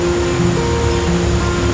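A wide river flowing, a steady broadband rush of moving water with no breaks, close and fairly loud, with no voices over it.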